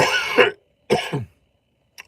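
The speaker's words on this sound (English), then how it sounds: "y'all is gonna see a lot more coughing from me" A man coughs three times close up, two harsh bursts followed by a short quieter one, with silence between them.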